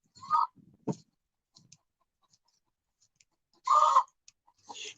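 Hens in a hen house at a residential property, giving scattered short clucks and squawks close by amid quiet, with one louder burst of cackling near the end.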